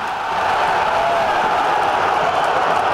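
Botafogo fans celebrating a goal in a football stadium: a dense, continuous crowd roar that rises in the first moment and then holds loud and steady throughout.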